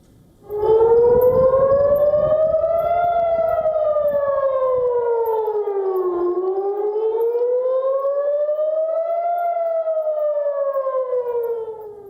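An air raid siren in Israel wails steadily, its pitch slowly rising and falling in long sweeps, loud and sustained with no voices.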